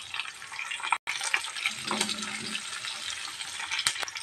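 Oil sizzles and crackles steadily as onion and curry leaves fry in a pan, with a brief stir partway through.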